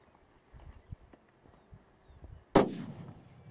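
A single loud, sharp rifle shot fired at a long-range target outdoors rings out and tails off in a decaying echo. Faint scattered ticks and rustles come before it.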